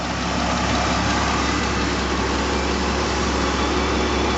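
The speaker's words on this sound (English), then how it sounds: "engine's running pretty good now." The engine of a 2000 Jeep Grand Cherokee, repaired for a lean condition by a fuel trim adjustment, runs at a smooth, steady idle with a constant low rumble, heard close and alone.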